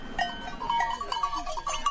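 Sheep bleat in a village, several short wavering calls overlapping at moderate distance over faint outdoor background, with no talking.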